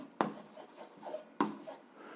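Pen writing out an algebra solution on paper, two distinct bursts of quick scratchy strokes with short pauses between, close and fairly quiet.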